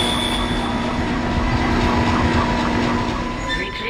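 A tram car rolling on rails in the video game Dead Space, a steady rumble, rhythmic clatter and a sustained metallic squeal, loud and close throughout.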